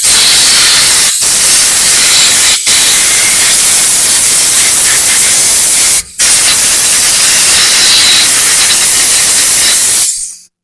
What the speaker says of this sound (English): we're going to fire up the air compressor, and we're going to blow air and get all the dust out of here